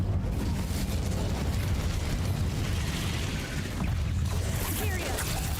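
An Incendio fire spell blasts in Hogwarts Legacy, a continuous roaring, crackling rush of flame and impact noise that stays loud and steady, with a brief dip partway through and a bright fizzing flourish near the end.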